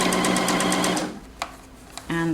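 A sewing machine stitches a T-shirt in a quick, steady rattling run for about a second, then stops; brief handling clicks follow and a short motor burst returns at the end.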